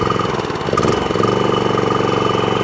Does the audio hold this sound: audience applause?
no